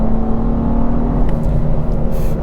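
A 2021 BMW M4 engine pulls hard while the car accelerates on the road, a loud, steady drone from inside the cabin with no one talking.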